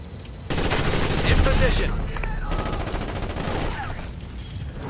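Rapid automatic gunfire crackles in Ghost Recon: Advanced Warfighter, sustained bursts layered over battlefield ambience while soldiers call out over the shooting.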